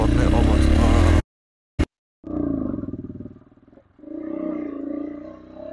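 A motorcycle climbs uphill along a blocked road in the Sailung hills of Dolakha, its engine droning steadily and rising and dipping after a loud burst and a brief silence, with voices around it.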